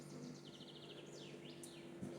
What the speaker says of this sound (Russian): Слышите, как птица поет?